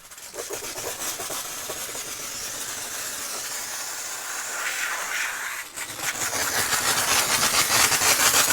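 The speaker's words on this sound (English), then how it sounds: "we're going to turn it on, and let's see how it does with these parts here" A steam cleaner sprays water and steam over greasy engine bay parts, giving a steady, loud hiss that continues throughout, briefly dips, then resumes more strongly.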